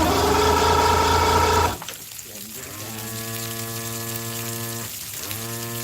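A water pump running during a test, first a loud dense mechanical churn that cuts off abruptly, then a steady droning hum with strong harmonics that dips briefly once before resuming.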